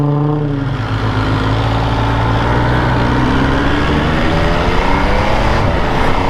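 Steady engine drone of a 2022 MV Agusta Dragster 800 RR motorcycle while riding, loud and continuous with rising pitch sweeps as it accelerates through gears, no voices.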